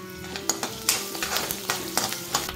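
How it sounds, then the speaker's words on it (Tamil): Peanuts and cashews roast in hot oil for lemon rice, with a close, steady sizzle and repeated scraping stir strokes of a spoon against the pan. "என்னென்னா ரோஸ்ட் பண்ணிக்கலாம் கடலக்காவையும் முந்திரி பருப்பையும்."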